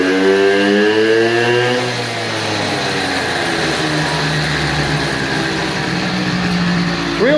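A 50cc Blue Dino mini bike engine revs loud and close, its pitch sweeping up and down through a couple of throttle blips before settling into a rough, buzzy, uneven idle.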